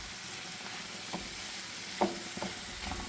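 Rice grains toasting in a pan for paella, a faint steady sizzle with a few soft scraping stirs, no talking.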